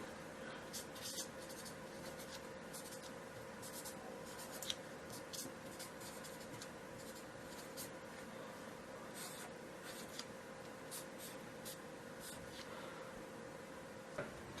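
A pen scratches on a paper sheet while an app screen prototype is sketched at a table, with a steady run of soft strokes and quick taps heard close up with no talk.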